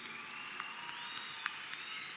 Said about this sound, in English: I think they deserve one more round of loud cheer.